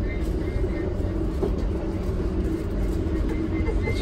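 Class 317 electric multiple unit running non-stop between Hackney Downs and Seven Sisters in London, heard from on board as a steady, loud rumble of wheels and motors with continuous broadband roar throughout.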